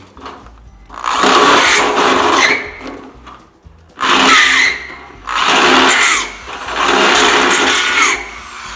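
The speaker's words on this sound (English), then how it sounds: "That drill bit's driving me nuts." A power drill whirs in four loud bursts separated by short pauses, each run a high, grinding whine close by, while installing a loader valve on a Massey 50 tractor.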